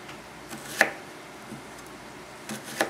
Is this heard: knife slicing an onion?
yes